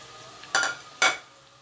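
Cumin seeds and raw turmeric stirred into about 100 grams of hot oil for homemade hair oil: two sharp, close spoon-scraping sizzles, each fading quickly, over a quiet background.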